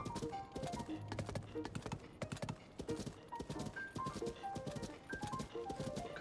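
Horse hooves in The Legend of Zelda: Tears of the Kingdom clip-clop in a steady, quick rhythm, close and clear, with faint background tones over it.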